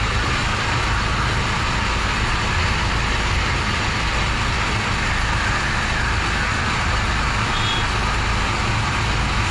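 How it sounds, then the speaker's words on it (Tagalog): Dense road traffic with trucks beside a road under repair, a loud steady rumble of engines that holds unbroken for the whole stretch, with no talking. "Bakit traffic? Traffic po. Inaayos yung kalsada."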